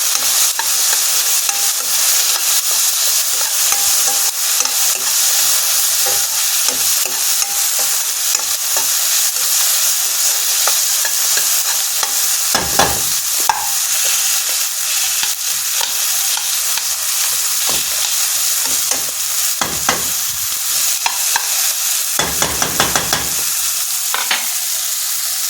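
Tomato fries in a hot pan and is stirred, a loud continuous sizzle broken by repeated scraping strokes of the spoon against the pan, with no talking.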